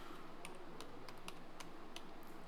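Someone types a short word on a computer keyboard: a handful of quick, light key clicks in an uneven rhythm, quiet and close, with no talking.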